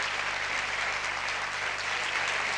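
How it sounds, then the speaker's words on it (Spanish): Audience applause for a guest speaker at a talk, a steady, even wash of many hands clapping held at constant loudness throughout, with a low hum underneath. "yo les pido un fuerte aplauso para él"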